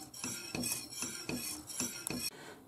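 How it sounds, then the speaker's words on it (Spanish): Crema catalana custard stirred in a pot off the heat, a utensil scraping and clinking against the pot in a steady rhythm of about five strokes, close and moderately quiet, with no talk. "Ya es pesado y ahora lo apagamos del fuego y seguimos moviéndolo durante unos minutos."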